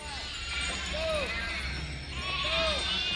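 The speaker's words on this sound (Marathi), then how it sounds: "सगळ्या मेंढ्या येऊन राहिल्या." Sheep in a flock gathering at an evening camp in a village bleat in a few distinct calls over a steady background din, with indistinct voices mixed in.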